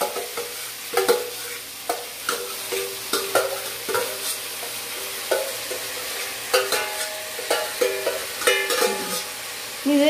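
Poha and sliced onion being stirred in a hot pan, a spoon scraping and tapping in irregular strokes over a soft sizzle, close and without talk.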